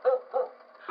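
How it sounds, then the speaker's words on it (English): Dogs barking at night outside a house, three sharp bark bursts in one second, fairly close and agitated. "the dogs are going absolutely ballistic"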